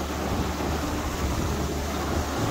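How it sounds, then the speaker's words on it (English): Steady, loud wind buffeting a microphone on the Mount Everest Base Camp trek, a constant low rumble with broadband roar throughout, no voices. "A bit windy"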